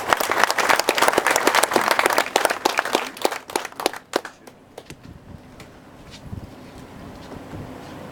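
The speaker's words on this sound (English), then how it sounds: "give him a round of applause" Audience applause at the 2013 launch ceremony of the Keller Ferry Sanpoil, loud and dense at first, then thinning into scattered claps that fade out after about four seconds.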